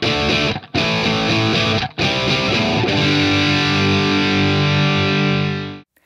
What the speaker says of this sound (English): here's the kind of tone we're talking about when we're referring to an overdrive, distortion, or dirty channel